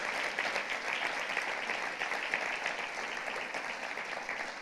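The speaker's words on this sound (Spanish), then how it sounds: "Denle un aplauso, pero con todo su corazón." A church congregation during a sermon breaks into sustained applause, an even wash of many hands clapping at moderate level, without speech over it.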